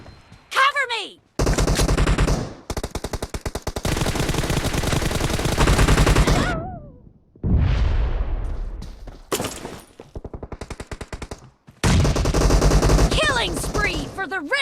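Rapid automatic gunfire in a mobile shooter game, loud close bursts of machine-gun shots in long sustained volleys separated by brief pauses, with game effects between them.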